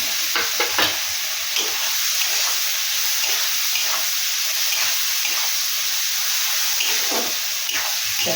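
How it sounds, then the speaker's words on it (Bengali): Onion frying in oil with turmeric and salt, a steady close sizzle and hiss with occasional scraping stirs of a spoon in the pan. "তেল ছাড়া অবধি কষে নেব, রাঙা রাঙা করে ভাজবো।"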